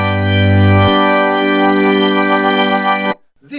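Yamaha CP88 stage piano playing an organ tone with its rotary effect, a loud sustained chord that swells and wavers for about three seconds before cutting off, alone.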